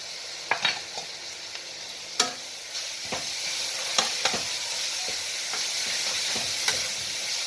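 Garlic and ginger paste fry in a pan for a summer chicken curry, a constant sizzling hiss with intermittent sharp spatula scrapes and clicks as it is stirred, close and alone.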